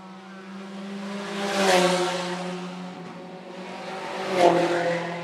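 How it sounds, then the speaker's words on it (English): Sport compact race cars at Phillips County Raceway roar past during the final two-car feature at night, engines rising to two loud pass-by peaks with droning, revving tones between them and no talk. "Two-car race to the finish as Merle Johnson is in complete control here in the final race here tonight at Phillips County Raceway."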